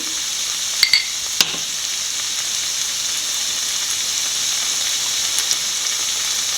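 Onion, garlic and ginger sautéing in a pan, giving a steady soft sizzle with a couple of sharp utensil clicks early on, close and continuous with no talking.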